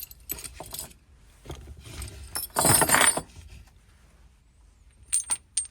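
An assortment of Allen keys jangles and clinks in a few metallic bursts, the loudest rattle coming midway, then a couple of quick chinks at the end, close up with no talking.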